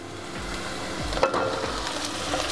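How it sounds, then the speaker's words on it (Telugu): Pumpkin pieces go into a pan of browned fried onions, setting off a steady loud sizzle with a few soft scraping stirs, and no voices. "ఇప్పుడు మనం గుమ్మడికాయ ముక్కలు వేసుకుందాం."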